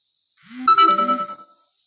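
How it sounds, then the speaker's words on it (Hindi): Phone message notification chime, a short bright electronic melody of several quick tones rising and falling, clear and alone in an otherwise quiet moment. "थोड़ा आपको बीच में साउंड आ रहा होगा फोन का, मैसेजेस का।"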